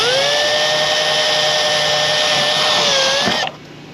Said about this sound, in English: Now let's take our small drill bit and just start a pilot hole.